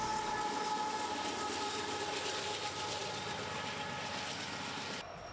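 An EMD SD70ACe diesel locomotive hauls a train past close by, a loud continuous rumble of engine and rolling wheels that stops abruptly near the end.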